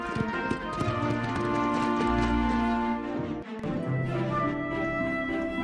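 Donkey hooves clip-clop steadily on the way into Jerusalem, a close, even rhythm of hoof strikes set against a continuous musical backdrop.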